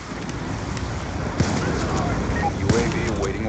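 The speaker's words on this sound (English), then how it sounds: "Hostile lightning strike inbound." A lightning strike killstreak hits in an online shooter, with two sharp cracks of thunderous impact over a constant rain-like roar of battle noise.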